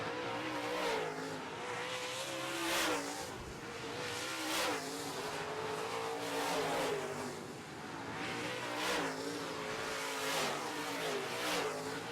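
Modified race cars race around a track in a feature event, engines roaring continuously and swelling repeatedly as cars pass close by, loud and steady with no talk.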